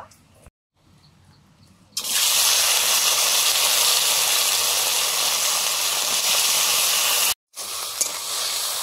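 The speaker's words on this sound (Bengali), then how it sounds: "কচুটা একটু ভেজে নিচ্ছি।" Taro frying in mustard oil produces a loud, steady hissing sizzle that starts abruptly after a quiet moment, drops out briefly and then resumes.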